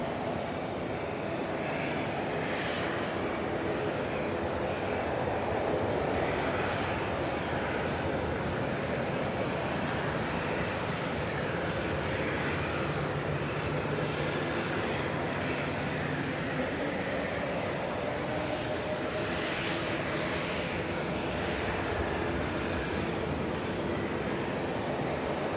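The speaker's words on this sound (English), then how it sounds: "Latam rolling out very long. Maximising on that D-rated takeoff of the 787 there." A LATAM Boeing 787 airliner on a long derated takeoff roll at Auckland Airport makes a steady, broad jet engine roar that holds at a distance without a break.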